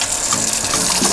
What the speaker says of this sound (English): Gotta wash your hands.